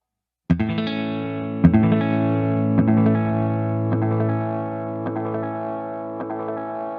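A guitar played through a Maneco Labs 16 second delay pedal: a few plucked notes at the start, then layered repeats that pile up and slowly decay, holding loud and sustained with no talking.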